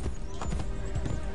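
A horse gallops in Assassin's Creed Brotherhood, with loud, close, continuous hoofbeats pounding in quick rhythm for the whole moment and a faint whinny-like tone over them.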